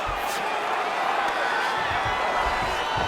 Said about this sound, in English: crowd absolutely loving it